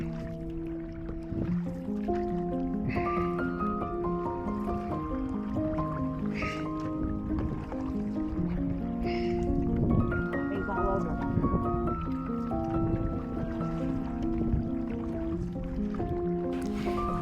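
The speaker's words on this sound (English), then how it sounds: "This is our new kayak." Kayak paddling on calm lagoon water near a reef pass, with soft rhythmic dips, drips and squishy splashes beneath steady background music and some talk.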